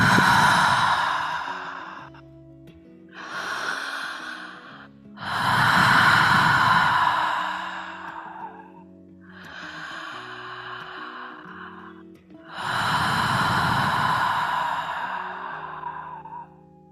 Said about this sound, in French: Prends encore 3 profondes respirations.